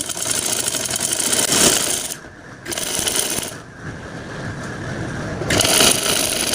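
A sewing machine stitches a kurti in close, loud bursts of rapid mechanical whirring, broken by two short pauses, with no talk.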